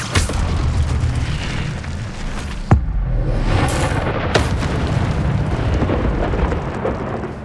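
Incendio fire spell cast in Hogwarts Legacy: a loud, sustained rumbling burst with a sharp crack near the middle and brief hissing flares, heavy and close throughout with no one talking.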